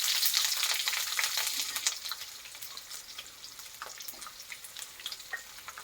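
Onions with garlic and black cumin seeds sizzle steadily in hot oil, a dense, close frying hiss that is loudest at the start and settles a little softer, with no voices.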